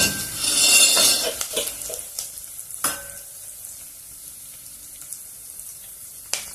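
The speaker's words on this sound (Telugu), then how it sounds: "ఉల్లిపాయ ముక్కలు వేగినాయి ఇప్పుడు" Onion pieces sizzle in a pan for tomato rice, loudest at the start, then settling into a softer fry broken by the clatter and scrape of a stirring utensil against the pan, with no talking.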